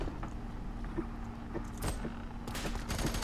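Gunfire in the shooter F.E.A.R. 3, a few sharp shots in the middle followed by a longer, louder burst near the end, over low background noise from the game and no speech.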